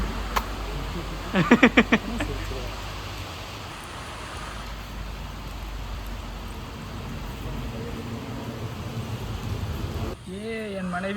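Steady rain falls outdoors during heavy weather while Pongal is cooked, a continuous hiss throughout with a brief clatter near the start and voices faintly in the background.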